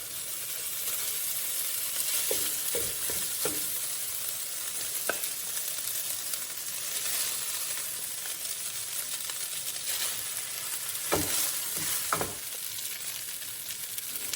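Rice with bok choy stir-fried in a pan makes a steady, even sizzle throughout, with a few sharp clinks and scrapes from stirring and no talking.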